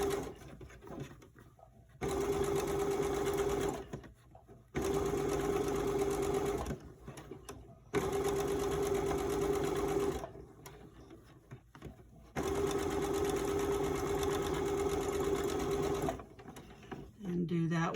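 A sewing machine stitches the seam of a fabric face mask in four bursts of a few seconds each, a steady mechanical whir with pauses between runs while someone talks throughout.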